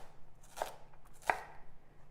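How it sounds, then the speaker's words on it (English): A knife roughly chops vegetables on a cutting board: two sharp, close chops spaced apart, with quiet kitchen background between them and no talking. "So you're just gonna roughly chop them."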